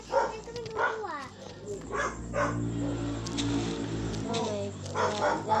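Dogs in the video game Minecraft bark and yip repeatedly in quick bursts, fairly loud and close, over a steady low hum.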